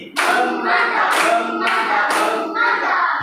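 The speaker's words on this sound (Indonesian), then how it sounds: "Ya, mari kita berikan dia tepuk mantap." A classroom of students performs a rhythmic 'tepuk mantap' group clap, four loud, sharp unison bursts with brief gaps between them, ringing in a small room.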